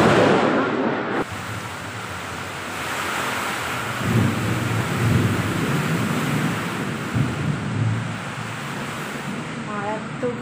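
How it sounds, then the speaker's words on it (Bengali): Heavy rain pours down outside a window, a dense, steady hiss with a sudden swell early on, while a person talks over it. "জোরে বৃষ্টি পড়ছে"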